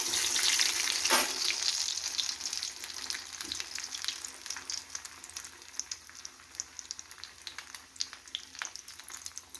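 Batter-dipped potato bonda frying in hot oil, with a loud sizzle burst at first that settles into a steady crackling bubble with scattered pops.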